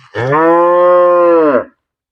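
A single long, loud cow moo, close by, with a full, steady tone that rises and then tapers off abruptly.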